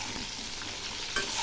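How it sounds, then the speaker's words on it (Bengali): Ridge gourd and fried potatoes stirred together in a sizzling pan, a constant frying hiss broken by two brief spatula scrapes. "আবার একটু নেড়ে দিচ্ছি।"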